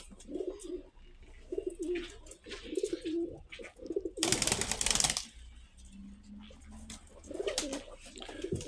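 Several purebred pigeons coo in low, rolling, repeated calls close by, with a brief burst of fluttering wings midway.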